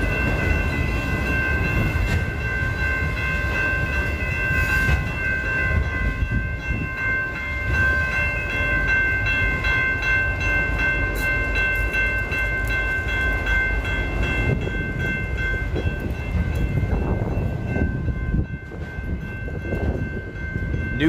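Train passing a gated railroad crossing on a Flat Rock subdivision line in Downriver Michigan, loud continuous rumble and rail clatter under a steady ringing crossing bell throughout, near and alone without talk.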